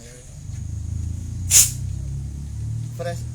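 Silicone oil spray can released through its valve for lubricating an airsoft Hi-Capa pistol, a short bright hiss burst, then a fainter second puff over a steady low hum.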